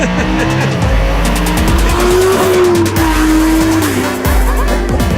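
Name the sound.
Lamborghini Huracán LP 580-2 sliding, tires squealing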